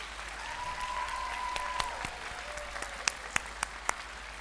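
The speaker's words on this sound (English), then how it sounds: "help me give a round of applause to the staff and the faculty of this great college" Graduates at a college commencement ceremony applaud the staff and faculty, a steady wash of clapping from a large crowd with a few sharper nearby claps standing out toward the end.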